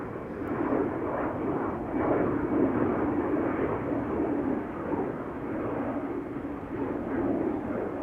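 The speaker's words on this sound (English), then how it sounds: "SkyTeam livery Embraer 190 KLM. On its way to Toulouse." A KLM Embraer 190 in SkyTeam livery departs Amsterdam Schiphol, its engines a steady broad roar that holds at a fairly loud, even level throughout with slight swells, no voices over it.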